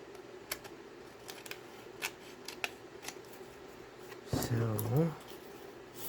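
Scissors snip through paper close by while trimming a bookplate for a flip-flop journal, a few short sharp cuts scattered through the quiet before a brief burst of louder handling noise.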